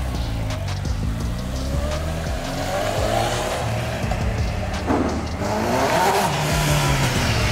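A Honda CB1000 motorcycle fitted with its original exhaust revs hard and continuously, pitch climbing and falling with throttle, a raspy exhaust roar filling the whole stretch.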